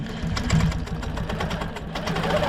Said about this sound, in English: pull my bobbin thread up, needle down, and do some micro stitching